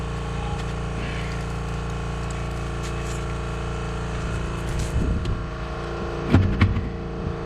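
An air compressor runs in a garage during a brake job on a 2010 Dodge Caravan, a steady continuous hum throughout with a few clanks and thumps near the end.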